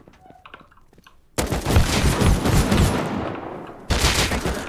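Shotgun fire from enemies in the game Rust, a sudden loud burst of rapid, overlapping booming shots after a quiet stretch, dying away, then a second close blast near the end.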